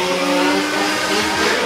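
Radio-controlled car powered by a Zenoah G320 petrol engine revving hard and close, a buzzing high-pitched whine that climbs and wavers in pitch without a break.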